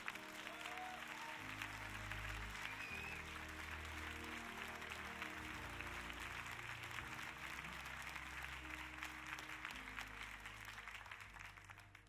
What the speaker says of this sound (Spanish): denle a Dios un aplauso de alabanza